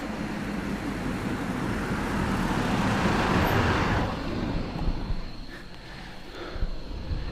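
A car on a dark road rushes past close by, a broad steady roar that swells and then fades away, leaving quieter road ambience.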